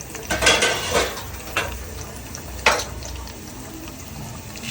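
Metal pan clanking onto a stovetop burner for tempering with oil, garlic and dried chillies, a few sharp clattering knocks and scrapes spaced apart, close and fairly loud, with no talking.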